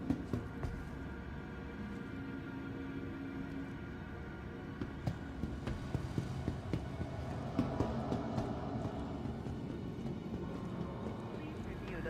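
Train in the video game Star Citizen at TISA Spaceport, a quiet, steady rumble with faint rhythmic clicking and clacking over low game ambience, continuing throughout.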